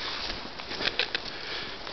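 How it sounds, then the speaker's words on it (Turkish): Outdoors near a dam reservoir and abandoned houses, rain patters steadily and densely, with a few brief heavier bursts of drops in the middle over a constant hiss. "Yağmur hızlandı."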